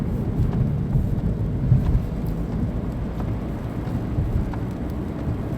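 Thunderstorm in Oklahoma at night, with steady rain and low rolling thunder rumbling continuously and loudly close by, swelling slightly around the second mark and carrying on without any voices.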